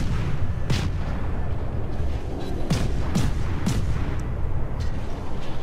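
Naval gunfire from warships in the video game World of Warships, including a Montana battleship's secondary battery: several deep booming salvos at irregular intervals over a constant low rumble, with no one talking.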